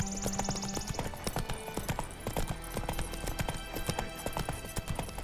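Steady clip-clop of a horse's hooves trotting in The Witcher 3, a repeated close rhythmic beat with a brief whinny and some game music early on, no talk.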